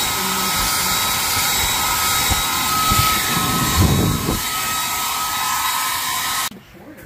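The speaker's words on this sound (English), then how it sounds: "So basically, I think we showed you that that blower blows harder." A handheld blower roars steadily at close range for several seconds, loud and constant, then cuts off abruptly near the end.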